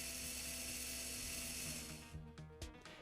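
A Bien Air electric slow-speed dental handpiece runs at a steady high-pitched whine, holding a constant tone before it cuts out with a few short clicks and mechanical ticks near the end.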